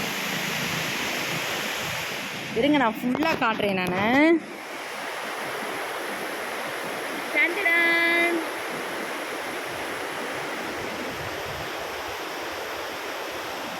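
Water from a dam flows steadily down the river at Mayanur, a broad continuous rushing wash heard throughout, with someone briefly speaking over it twice.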